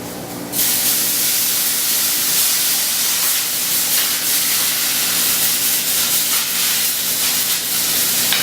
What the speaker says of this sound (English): See the fire getting a little bit hotter from all the steam coming out.